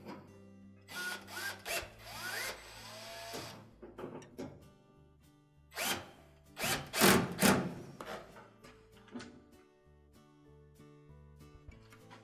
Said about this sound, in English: So we'll reinstall those 2 mounting screws.